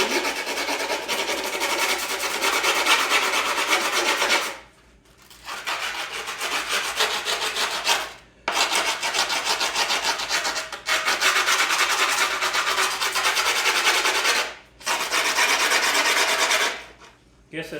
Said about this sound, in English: Just take something hard, like an old wrench or something like that, and outline where it's supposed to be.